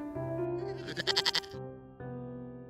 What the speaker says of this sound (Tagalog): Isang matabang kambing.